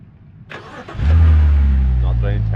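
A drift car's engine starts in a video game, a short cranking burst followed by a loud, steady low rumbling idle, with a voice talking over it.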